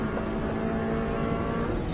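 A Subaru car runs flat out on an Isle of Man road lap, its engine roaring steadily and loud throughout the short stretch, with no voices.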